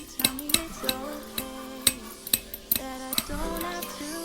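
A spoon clinks repeatedly against the sides of a container while stirring eucalyptus oil, sharp irregular taps over a soft swirling undertone.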